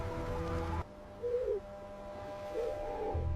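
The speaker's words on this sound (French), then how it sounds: "Le hibou le plus ancien, détenteur de sagesse millénaire" Owl hoots in a fairy-tale sound effect: two soft, wavering calls spaced apart over a low background drone, with a brief louder tonal sound at the start.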